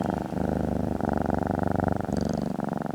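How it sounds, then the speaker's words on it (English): A cellist's improvised purr-like sound meant as music for cats, a steady low rumbling pulse that rolls on continuously and close, with a faint higher chirping touch near the end. "So I have different ways of creating purr kind of sounds."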